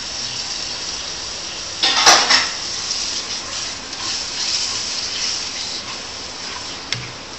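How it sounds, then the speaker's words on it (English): Dry and fresh chili with serai being stir-fried in a pan for Peranakan Nyonya cooking, a steady hissing sizzle with a louder burst of clattering stirring early on and a faint tap near the end. "when you tumis, you must keep on stir."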